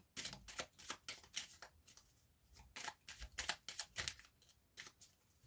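Tarot cards are shuffled and drawn for a seven-card spread in a series of quick, crisp riffling bursts with short pauses between them, close and fairly quiet, with no talking.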